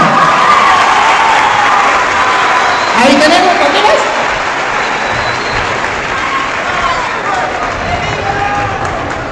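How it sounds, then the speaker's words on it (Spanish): A crowd applauds the Virgin Mary at a religious debate gathering, loud sustained clapping mixed with cheering and crowd babble, while someone speaks briefly over the noise. "Aplausos para la Virgen María"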